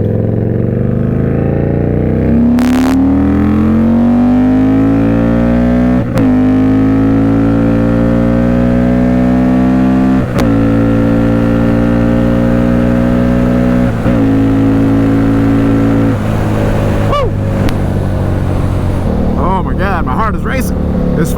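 An Indian Scout Bobber motorcycle engine pulling hard from second gear while riding, a loud rising drone that climbs in pitch through several steady gear pulls, close and dominant with wind rush underneath.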